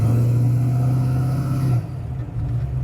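A 1968 Ford Mustang coupe's engine runs with a steady, loud, close drone that suddenly drops lower and rougher toward the end as the car pulls away.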